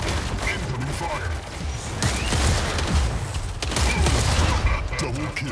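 Rapid video game gunfire crackles and pops in continuous bursts, dense and loud throughout, with game announcer voices and effects layered on top.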